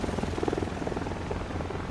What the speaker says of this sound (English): I think that's supposed to be a helicopter?